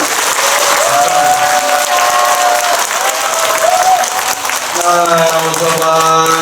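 Sustained audience applause fills a Buddhist dharma service at a temple, dense steady clapping from a crowd that continues throughout, with faint chanting or tonal voices rising near the end.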